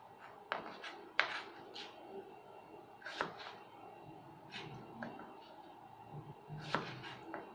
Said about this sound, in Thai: หั่นออกมาให้มันได้ทั้งหมด 8 ชิ้นนะคะ